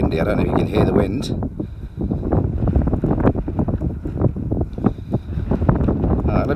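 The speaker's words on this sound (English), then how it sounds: "Windy. I don't know if you can hear the wind." Cold wind buffeting the microphone outdoors at Stonehenge at sunset, a loud continuous low rumble with gusty surges throughout, with someone talking over it.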